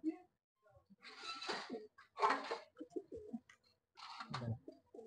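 Pigeons, including racing pigeons, coo softly in short throaty bursts at a market, close by, with quiet gaps between calls and some low voices nearby.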